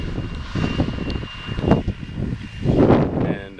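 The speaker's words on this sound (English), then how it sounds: "That's an attachment to his tractor, and he can break up hard soil and flatten out." A tractor with a soil-breaking attachment works a hard-packed arena, making a low rumbling engine drone that swells and fades as it passes, with wind noise over it.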